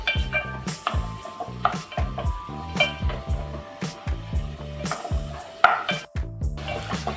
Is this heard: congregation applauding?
no